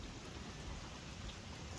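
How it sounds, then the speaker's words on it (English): Steady rain falls outdoors, a dense continuous hiss of drops with a low rumbling undertone, faint and even from start to finish. "Enjoying the rain?"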